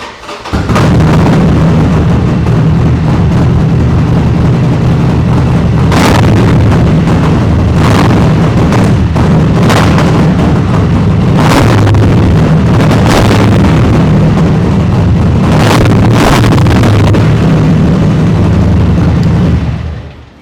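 A superbike fitted with an aftermarket Scorpion-style exhaust roars close and very loud, with repeated sharp blips and bursts over a constant heavy rumble throughout.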